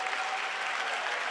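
Brief burst of audience applause at a Saturday morning community forum, a dense, steady wash of clapping from many people with no talk over it.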